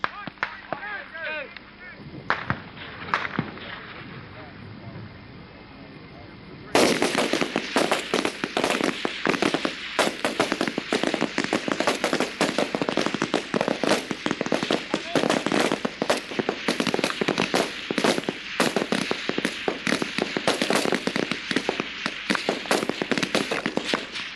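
Rapid volleys of sharp cracks from rifles at the 1992 Queens Shoot service demonstration, starting after a few quiet seconds with a voice, then continuing as dense, loud shots outdoors.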